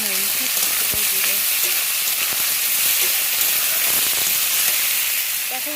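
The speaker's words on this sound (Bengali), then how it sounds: "আর পেঁয়াজটাই আগে ভাজা করব।" Onions frying in a kadai give a loud, dense, continuous sizzle and hiss from start to finish, with light stirring knocks and a faint voice now and then underneath.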